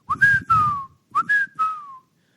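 A duck whistle imitating the wigeon call, two clear whistled phrases, each a short rising note followed by a longer falling tone, close and loud against silence.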